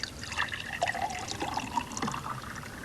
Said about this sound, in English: So I think I'll pour myself a glass.